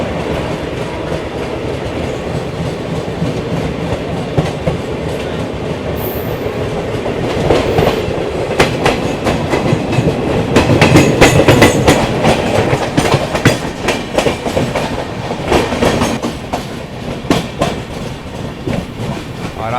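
A Garba Superfast Express train (12938, Howrah to Gandhidham) running on rails, with a steady loud rumble and rhythmic clickety-clack of wheels over rail joints, growing busier midway, with no voices.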